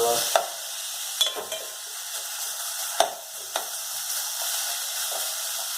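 Tomatoes for rasam squashed in a hot pan, with soft sizzling and frying hiss throughout and a few sharp scraping taps of a spoon against the pan at irregular intervals.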